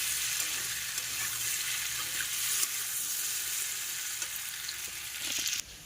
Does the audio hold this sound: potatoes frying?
yes